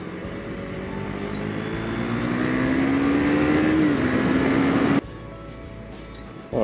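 A 2017 KTM Duke 390 motorcycle is ridden on a dry road, its engine droning steadily and rising in pitch under constant wind rush before the sound drops abruptly near the end.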